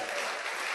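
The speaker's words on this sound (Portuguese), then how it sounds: "Dê um forte aplauso ao Senhor," A church congregation claps together in a steady, dense wash of applause that fills the whole moment, moderately distant and without a break.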